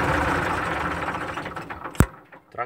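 An IMT 542 tractor engine idles with a steady mechanical chatter, then a sharp clunk as it is shut off, leaving the running sound to die away into near quiet.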